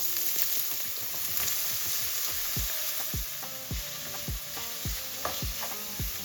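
Chopped onions sizzling in hot oil with cinnamon stick, green and black cardamom and star anise, a steady crackling hiss broken by a series of sharp clinks and knocks from stirring, no talking.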